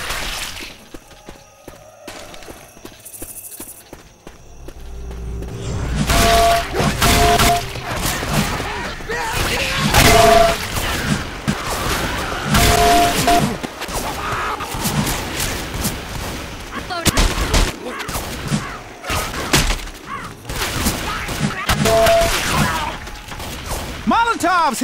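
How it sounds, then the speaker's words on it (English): Shattering glass and bursting flames from a thrown Molotov cocktail in the zombie shooter Left 4 Dead 2, amid sharp clatters, gunfire-like cracks and loud chaotic combat noise after a quiet opening. "Molotov's here! Fire in the hole!"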